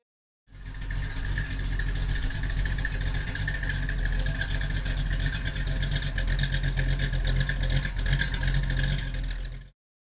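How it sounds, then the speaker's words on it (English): A car engine rumbles steadily with a deep, throaty exhaust growl, loud and close, holding a constant idle-like tone for about nine seconds. "give a muscle car a bit more power and the growling sound it deserves."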